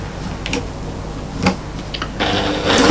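A sewing machine makes a few quick stitches in place to anchor the thread, heard as close, light mechanical ticking and clattering in short bursts with no talking.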